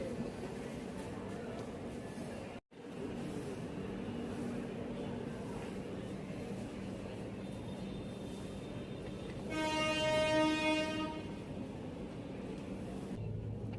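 A train pulls into a station on the Naihati–Bandel line, its steady rumble running throughout with a brief, fairly loud horn-like tonal burst near the end; no speech is heard.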